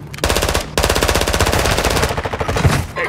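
Sustained automatic gunfire in Warzone 2, loud rapid bursts of machine-gun shots firing almost continuously, with a brief gap near the start and dense overlapping reports throughout.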